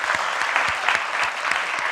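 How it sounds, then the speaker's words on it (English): Audience applause for a panel at a climate justice event, a steady dense clapping from a crowd filling the whole moment at moderate loudness. "let's just give a big round of applause to our panelists for their excellent remarks"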